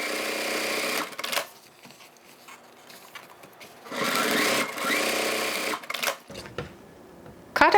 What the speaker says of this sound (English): so let me just sew the sides.